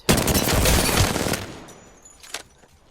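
A gun fires in a video game: a loud, rapid burst of shots packed together with recoil rattle for about a second and a half, then a short metallic clack as the noise fades out.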